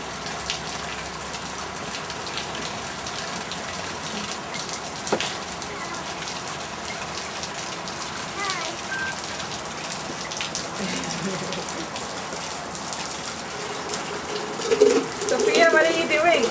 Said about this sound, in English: Sophia loves the rain.